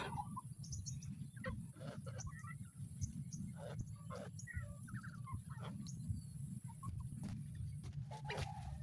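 Chickens cluck and chirp in a busy yard, with brief calls scattered over steady low background noise.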